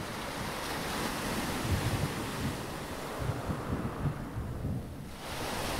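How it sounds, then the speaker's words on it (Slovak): Restless river water rushes and churns in heavy rain, a dense continuous roar with low surging swells and gusty wind-like noise, loud and close. "Rieka bola nepokojná a prúdila stále rýchlejšie."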